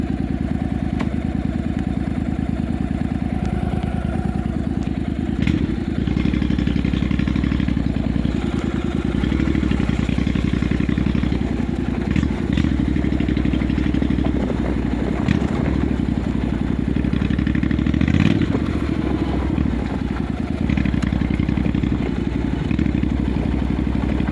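A Honda Integra motorcycle engine runs steadily at close range throughout, a constant low rumble with occasional clatter as the bike rides along.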